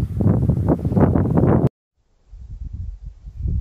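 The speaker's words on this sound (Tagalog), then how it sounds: "Grabe ang hangin." Strong wind near dunes and forest in Oftersheim, Germany, roars and buffets the microphone, cuts out abruptly to silence, then returns in lighter gusts.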